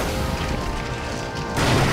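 In the video game Oceanhorn 2, a boss explodes with a dense, loud, rumbling burst that sustains the whole time and swells into a heavier crash near the end, with no talk over it.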